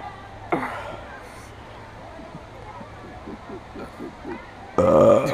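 A person lets out a few burps amid a casual hangout, with short guttural bursts near the start and end over low background noise and scattered vocal sounds.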